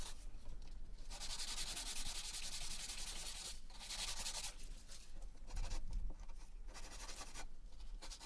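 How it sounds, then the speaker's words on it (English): 240-grit sandpaper rubbing pallet wood in repeated back-and-forth strokes, a close, raspy scratching with brief pauses between passes. "I then gave it all a sanding down with some 240 grit sandpaper."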